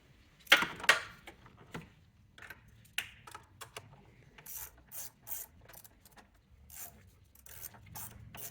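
A ratchet tightening the negative battery terminal on a Mercedes-Benz GLC, with close, quick bursts of clicking pawl strokes in several short runs, plus a few metallic knocks and scrapes at the start, no talking.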